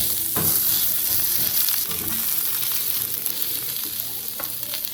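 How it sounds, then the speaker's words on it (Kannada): Onions and masala for Mangalorean clams sukka fry in a pan, giving a loud, close, steady sizzle with a few stirring knocks and no voices. "ಇದೆಲ್ಲ ಮಸಾಲೆಗಳು ಒಂದು 3-4 ನಿಮಿಷದಿಂದ ಫ್ರೈ ಆಗ್ತಾ ಇದೆ"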